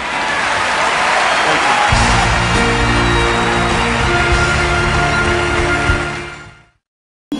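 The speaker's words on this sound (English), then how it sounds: "Put your hands together, start clapping, start clapping, start clapping." A studio audience claps for a comedy show introduction, steady dense applause swelling for about six seconds before fading out, with no talking over it.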